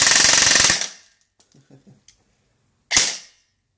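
Two sharp, loud bursts from a G&P Sentry M4 airsoft rifle: a sustained rapid string of shots, a stretch of quiet small clicks, then one short final burst.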